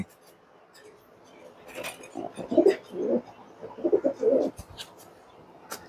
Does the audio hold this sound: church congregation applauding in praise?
no